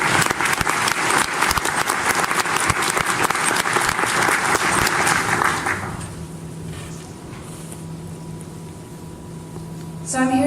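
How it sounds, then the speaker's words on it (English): An audience gives a speaker a loud, sustained round of applause at a futurist research talk on transportation. The clapping fills the first six seconds, fades into quieter crowd noise and murmur, then flares up briefly at the end. "please give her a big round of applause"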